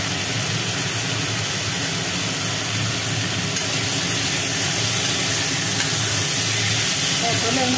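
Cumin paste, ginger paste and turmeric sizzle while frying in oil in a pan for a rohu fish curry, giving a loud, steady hiss with no break throughout.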